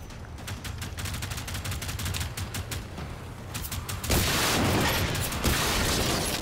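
Shotgun fire in the video game Generation Zero: a run of sharp gunshot cracks over a noisy in-game background, then a louder, heavier blast that booms and rolls on.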